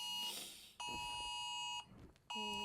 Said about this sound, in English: My phone had a national alert.